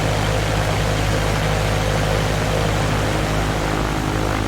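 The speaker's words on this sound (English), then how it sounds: "Okay, this is our landing at Green Valley. An external view." Steady, loud propeller aircraft engine drone heard from outside the plane as it lands in X-Plane 11, a constant hum with broad rushing noise and no talking.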